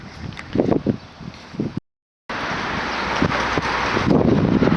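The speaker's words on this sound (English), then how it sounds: "God, it's windy, so hopefully you can hear me." Strong wind buffets the microphone in gusty roars beside a road in Denbigh, first in uneven bursts, then a sustained louder rush after a short gap.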